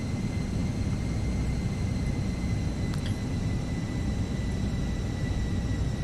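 Fenix Airbus A320 airliner in a flight simulator, a steady broadband engine and cockpit drone with faint constant tones, holding level throughout with no talking.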